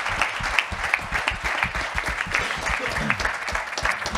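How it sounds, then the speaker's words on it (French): Applause from an audience at a finance awards ceremony, dense steady clapping that holds at a moderate level for a few seconds without talk over it. "Pascal, Hilary et Sreedhar, on peut encore une fois les applaudir"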